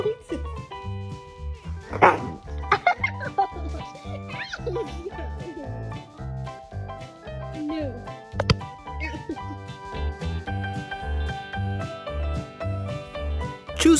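Dogs bark and yip in excited bursts over a rhythmic music track with a steady beat, a person talking now and then.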